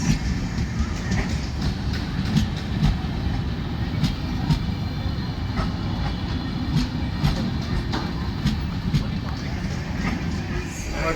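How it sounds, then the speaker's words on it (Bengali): Kurla Express passenger train with LHB coaches runs along the track, heard from inside as a steady rumbling roar with rhythmic wheel clicks and occasional rattles throughout, no talking. "দেখতে পাচ্ছ ট্রেন ছেড়ে দিয়েছে অলরেডি।"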